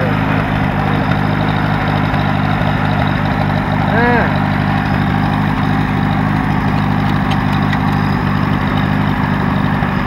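An Allis Chalmers tractor engine runs while the tractor is driven, giving a steady, close, continuous low drone that holds an even pitch throughout.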